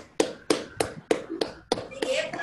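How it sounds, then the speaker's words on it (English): Scattered claps from an online seminar audience on unmuted microphones, six or seven sharp separate hand claps in an uneven rhythm, with a little background noise between them. "You can unmute your mic and clap."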